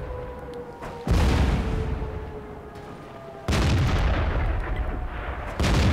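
Artillery guns in World of Tanks fire in three heavy booms, each a sudden loud blast with a long rumbling decay, spaced a couple of seconds apart, with no talking.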